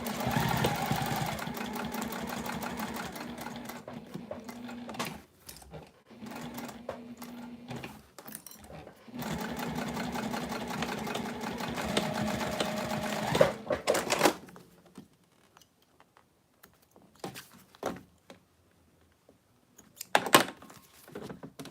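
A sewing machine stitches a leather wallet in runs of steady mechanical whirring and rapid needle clatter, stopping and restarting, then giving way to quieter handling clicks and taps near the end.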